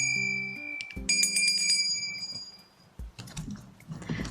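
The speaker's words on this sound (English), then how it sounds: "I'm just gonna ring the bell one more time." A small angel bell rung by hand during a tarot reading, giving bright, high ringing strikes that sustain and decay, with some lower tones and clatter around them, fairly close and clear.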